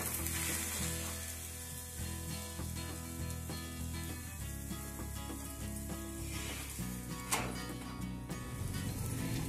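Foxtail millet roti frying in oil on a hot pan, a continuous close sizzle with faint scraping and one brief sharper crackle near the end.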